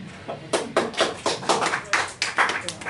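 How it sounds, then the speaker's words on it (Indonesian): A small stand-up comedy audience claps in a run of distinct, fairly close bursts, lively and uneven, with no speech over it. "Di sini ada yang nonton, tepuk tangannya boleh?"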